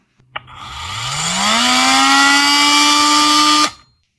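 A PROCRAFT PMT22 brushless oscillating multi-tool starts with a click, then soft-starts into a rising whine that settles into a loud, steady buzz before braking to a quick stop.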